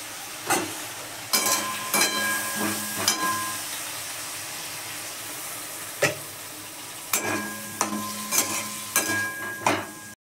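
Cumin seeds frying in hot oil for a fish curry with cauliflower, giving a steady sizzling hiss broken by several sharp clattering stirs of a spoon against the pan, close and fairly loud with no talk.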